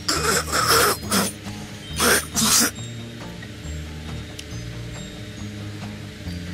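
Several harsh, close coughs and throat-clearing bursts come in quick succession, then give way to quiet room noise.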